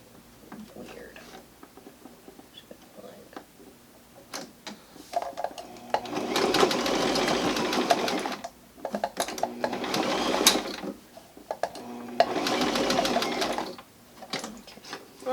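A sewing machine stitches fabric in three loud, steady bursts of several seconds each, with pauses between them; a voice talks during the quieter gaps.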